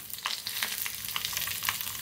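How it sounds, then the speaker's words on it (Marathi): Mustard seeds, asafoetida, chilli and curry leaves crackle and sizzle in hot oil for a tempering, a close, steady frying hiss dotted with sharp pops, with no voices. "आता तेल चांगलं गरम झालंय, त्याच्यात टाकूया अर्धी चमचा मोहरी"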